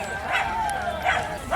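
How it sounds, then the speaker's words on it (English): Several dogs barking and yipping at an agricultural show, two clear bark bursts spaced about a second apart at moderate distance, over a busy outdoor background. "there's some more dogs all kicking off over there"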